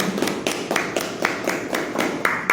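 A small group claps after a student presentation, sparse, distinct hand claps in an uneven rhythm, close and fairly few, with no other sound over them.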